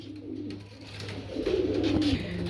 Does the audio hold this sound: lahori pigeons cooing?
yes